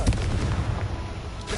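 A Confringo blast spell cast in Hogwarts Legacy bursts out as a loud, dense booming rumble with crackling impacts, sustained throughout without speech.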